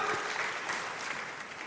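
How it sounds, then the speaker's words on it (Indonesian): A wedding congregation claps during a sermon, a brief, dense burst of many hands at moderate volume, steady and without voices. "Beri tepuk tangan"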